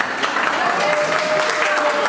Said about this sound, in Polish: Kochani, oklaskamy